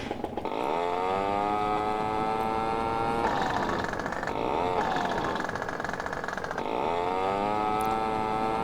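A rented moped engine in the video game DayZ on Namalsk hums steadily and close, its pitch rising and falling in several revving sweeps, with no talk.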